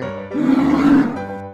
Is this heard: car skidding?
no